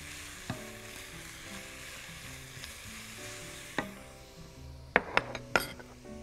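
Garlic and onion sizzle steadily in a pan as the base for a seafood soup, with spoon clinks and scrapes against the pan growing sharper toward the end.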